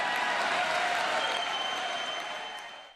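Applause from an audience during a televised political speech, a dense, steady clapping that fills the moment and fades out toward the end.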